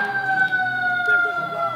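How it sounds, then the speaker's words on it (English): An ambulance siren wails steadily and loudly up close, its sustained tones sliding slightly, with a faint voice underneath. "the ambulance is here"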